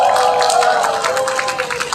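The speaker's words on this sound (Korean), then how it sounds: "선언문장도 동참해주신 세 분께 큰 박수 부탁드립니다." An outdoor crowd at a climate justice march rally in Daejeon applauds and cheers, a brief, loud burst of clapping mixed with raised voices.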